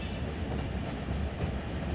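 Continuous rumble and rolling of a freight train on rails in the Run 8 Train Simulator game, a steady dense low clatter of wagons passing with no talk.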